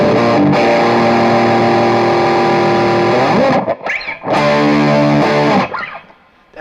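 An electric guitar runs through a Wampler Pinnacle distortion pedal stacked with more distortion, giving loud, thick, sustained overdriven chords that ring for several seconds, then break into choppier strummed bursts before fading.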